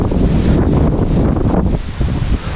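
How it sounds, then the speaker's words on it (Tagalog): Strong post-typhoon wind gusts buffet a banana plantation, roaring steadily and loudly across the microphone with brief dips near the end and no voices. "Hangin."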